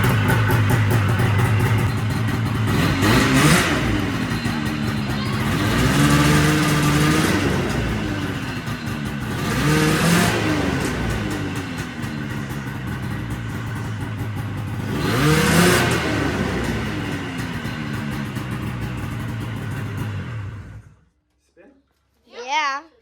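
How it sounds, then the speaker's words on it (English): An old snowmobile engine runs rough and loud with the track spinning, rising in several repeated revving surges before cutting off abruptly, followed by a faint voice. "we're gonna see if we can get the track spinning."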